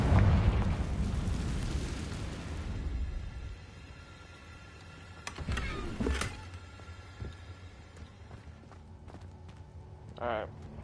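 A fiery Confringo blasting spell goes off in Hogwarts Legacy: a loud, broad burst opens and rumbles away over about three seconds, followed by a few sharper bangs and softer clattering impacts with a brief ringing tone near the end.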